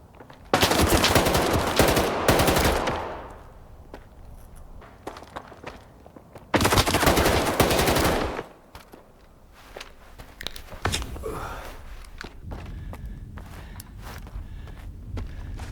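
Machine gun fire in the video game Stalker 2: two long, loud bursts of rapid automatic fire, then scattered single shots, thuds and footsteps as the fight quiets.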